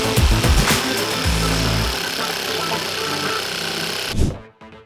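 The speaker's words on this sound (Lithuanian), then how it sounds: "Kad būtų lengviau pjauti per tokį didelį skerspjūvį, tiesiog įjungiu švytuoklinę funkciją." Parkside Performance 12V cordless jigsaw with pendulum action running close up, a steady buzzing drive that holds for about four seconds before cutting off abruptly.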